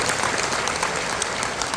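Audience applause at a Forever Living business presentation in Korea, a dense, steady wash of clapping that holds at even loudness from start to finish.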